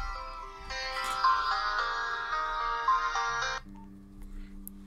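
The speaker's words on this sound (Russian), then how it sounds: "Так кто опять звонит?" Phone ringtone ringing in a Hello Neighbor mod video game, a loud sustained melodic electronic ring that plays steadily for over three seconds, then cuts to a quieter low hum.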